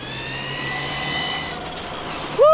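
A Kyosho Javelin RC car with a 550 motor and water cooling runs under load, giving a steady high whine with harmonic tones that shift as it drives, heard fairly close, ending in a brief louder burst, no talking.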